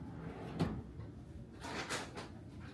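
A hotel room drawer in a Chicago downtown hotel slides open or shut, with a soft knock near the start and a longer sliding rumble later, faint and close in a quiet room.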